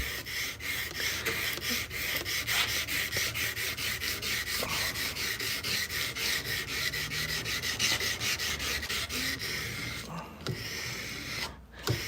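Steady hand sanding of a knife blade's finish by hand rather than on a grinder, a continuous close rasping rub with regular back-and-forth strokes that runs almost the whole time before easing off near the end.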